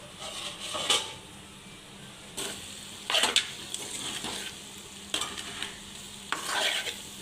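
Farm chicken frying in a pan on the stove crackles and sizzles loudly, with several bursts of stirring and scraping spread through the clip and no talking.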